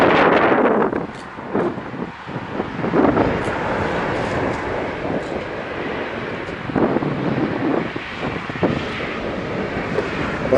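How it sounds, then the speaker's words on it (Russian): Strong, cold wind gusts across an open orchard in Krasnodar during a pruning day, roaring continuously into the microphone with rushing surges and buffeting for over ten seconds, close and loud with no one talking. "Ну, а ветер прочувствуйте сами, как нам тут сейчас холодно в этом Краснодаре."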